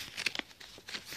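Paper pages of a Nintendo DS game manual crinkle and rustle as they are handled, several quiet, short crackles close by with brief pauses between them.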